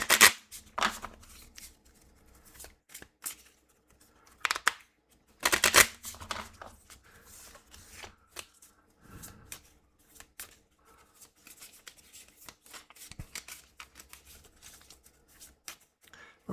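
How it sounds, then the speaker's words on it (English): A deck of cards for the Marvel Legendary deck-building board game is shuffled by hand in short riffling bursts separated by pauses, close and crisp in an otherwise quiet room. "I'm shuffling the hell out of it."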